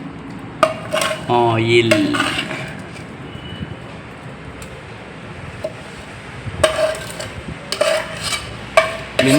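A metal ladle presses and scrapes fried fenugreek seeds in a pan of hair oil, giving clinks and scraping knocks in scattered bursts, near and fairly loud, with a brief spoken word early on.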